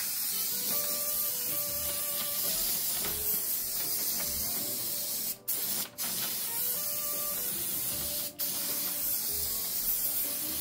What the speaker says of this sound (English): we're going to go ahead and get white spray paint